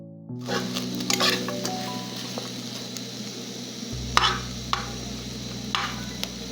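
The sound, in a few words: beef frying in a pot for stew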